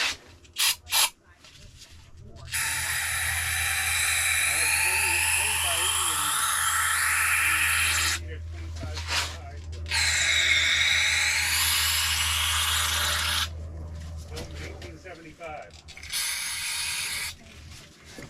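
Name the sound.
spraying brake cleaner on brake parts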